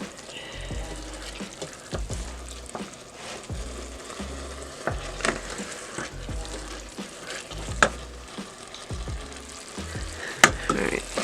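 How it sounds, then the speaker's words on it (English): A spoon stirs crimini mushroom risotto in a pan just after a ladle of liquid goes in, a soft continuous sizzle and wet bubbling with repeated scraping strokes, steady and close. "Stir, stir, stir."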